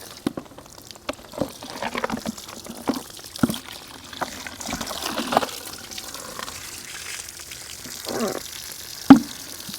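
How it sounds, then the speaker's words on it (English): Water running and splashing as Albo Monstera leaves are rinsed, a steady moderate wash of liquid with scattered drips, light handling noises and one sharper knock near the end. "I'm just going to wash the leaves off one more time"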